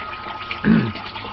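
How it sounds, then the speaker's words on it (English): A short gush of water near the middle as an aquaponics grow bed drains, a low gurgling rush that swells briefly and fades against a faint steady background hiss. "That's the water level draining out."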